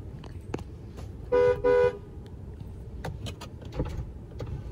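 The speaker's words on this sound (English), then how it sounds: "you can see that the horn is much louder" Two short, loud honks from the horn of a 2019 Ford F-150 XL pickup, heard close from inside the cab over a low engine and cabin rumble.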